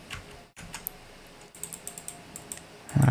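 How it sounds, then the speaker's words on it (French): Soft, scattered computer keyboard key presses while playing Planet Coaster, a handful of light clicks spaced unevenly and fairly quiet, no voices. "J'appuie sur U pour remonter si je veux tourner."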